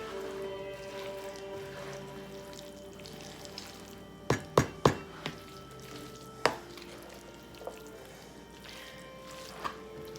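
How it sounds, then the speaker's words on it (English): Lasagna casserole mixture is stirred in a pan over a low background sizzle, with a quick cluster of sharp utensil clinks against the pan midway and a few softer scattered taps afterward. "stir that all up."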